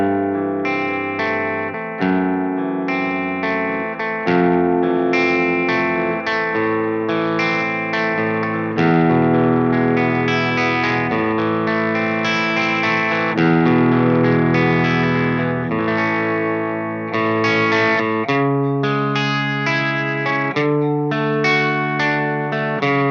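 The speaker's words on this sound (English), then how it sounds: "Just to make things fair, I'm going to include a little bit of spring reverb." Electric guitar played through a small tube amp, a Dr. Z Maz 18 or Magnatone Varsity Reverb, with a touch of spring reverb, ringing chords and arpeggios sustained at steady loudness with no talking.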